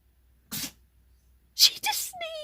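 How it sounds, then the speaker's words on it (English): A cat named Belle perched on top of a door frame gives two short, sharp sneezes about a second apart, followed by a brief higher-pitched voice-like sound at the end. "She just sneezed."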